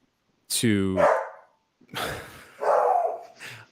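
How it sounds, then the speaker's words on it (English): A dog barks close by, first one sharp harmonic bark, then after a short pause a couple of rougher, noisier barks and yelps, loud against otherwise quiet room tone. "sorry about the dog"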